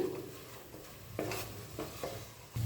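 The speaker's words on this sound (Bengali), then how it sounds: "সব কিছু খুব ভালো করে মিশিয়ে নিচ্ছি" A spoon stirs pav bhaji spices through a pan in a few scraping strokes over a soft, steady sizzle, quiet and close, with no talking.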